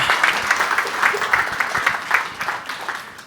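Indoor audience at a property investment masterclass applauding, a steady burst of clapping from a medium crowd, close and moderately loud, lasting a few seconds.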